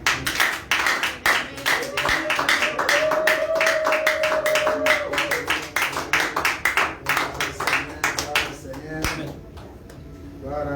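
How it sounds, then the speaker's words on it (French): A church congregation claps rhythmically and cheers in praise as a pastor approaches, steady loud applause running throughout with voices mixed in and a sung note rising briefly in the middle. "Quand il s'approche, on acclame pour le Seigneur."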